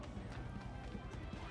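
Horse creatures in Final Fantasy 7 Remake trotting with a quick, quiet clip-clop of hooves, steady and rhythmic, under a person talking.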